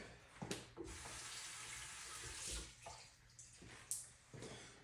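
Tap water running into a sink while deer shank is rinsed, a steady faint rushing stream with a few brief knocks and splashes.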